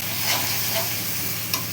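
Onions and spices fry in a pan while a spoon stirs them, giving a steady close sizzle with soft scraping strokes and one brief clink near the end, with no voices.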